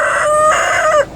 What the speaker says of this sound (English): And there's the cockerels, you can see 2 of them there.